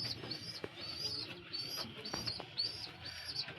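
An Indian pigeon coos and chirps softly in a few repeated calls against faint background noise.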